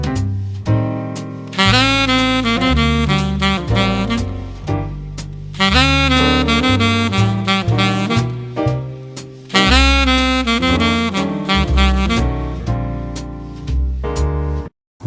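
An alto or tenor saxophone plays a blues lick over a jazz backing track, with phrases repeating across the passage against steady accompaniment. The instruments come through clearly and at full volume.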